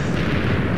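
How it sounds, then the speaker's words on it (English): A brief, dull rumbling TNT blast in a video game, low and booming, fills the short moment without any voices. "I'm hearing the explosions get louder and louder."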